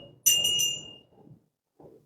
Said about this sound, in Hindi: चलो आप पूजा कर गाओ, चलो घंटा बजा जाओ।